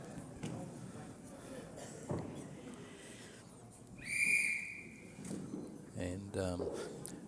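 A sharp, high whistle blast starts a game of indoor bowls at a national tournament, sounding once around mid-clip over a noisy hall with commentators talking throughout.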